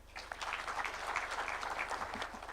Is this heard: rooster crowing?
no